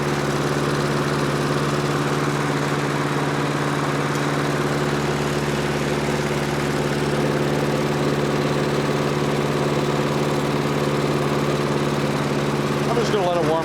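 An old Homelite lawnmower engine runs steadily while warming up, its idle drone loud and close with a constant harmonic hum from start to finish, apart from a brief rattle near the end.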